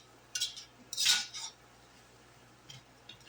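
A spoon stirs turmeric into a simmering dish, giving a few close, quiet scrapes and clinks in short bursts with pauses between them and no talking.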